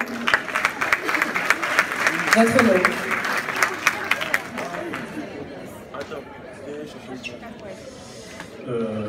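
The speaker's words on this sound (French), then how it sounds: "On applaudit pour lui." Applause from the crowd at an African Talents Awards ceremony as a winner collects his prize, a burst of clapping that fades within a few seconds, followed by scattered murmuring and a voice talking briefly.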